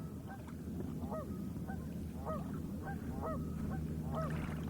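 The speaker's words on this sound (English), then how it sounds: "here, listen to these geese" Geese honk repeatedly in a loose, overlapping chorus, fairly close, over a steady low rumble of water lapping and wind at Lake Ray Roberts.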